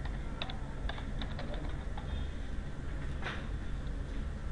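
Steady keystrokes on a computer keyboard as a user ID and password are entered, with a quick uneven rhythm of close, crisp clicks and a short pause partway through.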